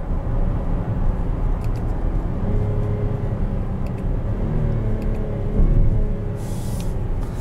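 A 2021 Buick Enclave Avenir drives with a steady, loud engine and road rumble, the tone shifting slightly as it downshifts near the end, with no talk over it.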